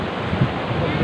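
Sea waves at an island wash in a steady broadband rush, loud and close, mixed with wind buffeting the microphone.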